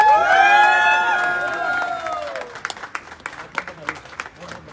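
A crowd at an AWPL achievement event cheers loudly, then breaks into scattered, uneven clapping that trails off, with voices mixed in.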